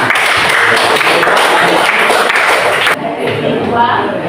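An audience applauds as a steady, loud wash of clapping for about three seconds, then it drops away into quieter room noise.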